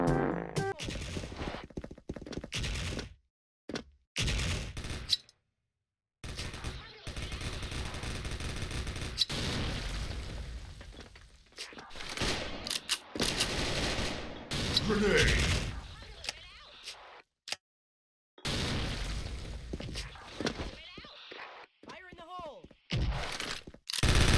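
Gunfire in the Special Force first-person shooter, with an enemy firing from a prone position. Loud bursts and cracks come in repeated volleys broken by short silent gaps, and a voice talks over them.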